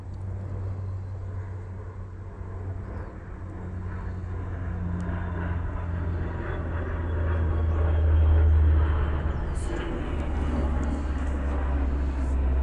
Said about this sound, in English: It's like that airplane flying over.